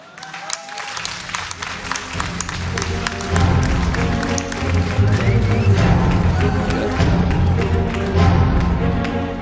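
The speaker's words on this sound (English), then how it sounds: "Let's get a round of applause for the winner bracket finals." Sustained audience applause and crowd noise at a League of Legends esports upper bracket final, broad and steady, swelling louder after a few seconds with scattered claps and thumps, a voice faintly audible underneath.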